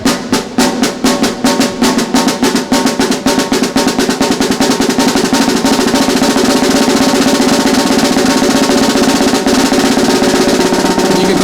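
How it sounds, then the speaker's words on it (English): Drumsticks beat a double stroke roll on a snare drum that starts as distinct loud strokes and speeds up, closing into a dense, continuous buzzing roll. "Close it up real far by moving your sticks real low to the snare drum and keep it going."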